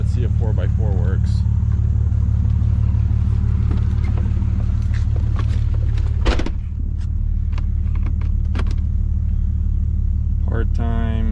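A cheap 4x4 vehicle rumbles with a loud, steady low engine drone while driving in four-wheel drive, with brief mechanical clunks and a short dip midway; voices talk over it.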